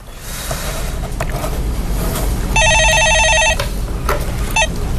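Telephone ringing on a live radio call-in show, a bright electronic ring burst lasting about a second over a noisy broadcast bed, with a brief second chirp shortly after.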